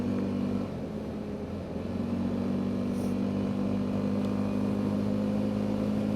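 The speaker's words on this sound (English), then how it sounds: "And there's third gear, and she's pulling." A Honda ATV pulls hard in third gear, its engine giving a steady, loud, droning hum that climbs slightly and then holds, with no talk over it.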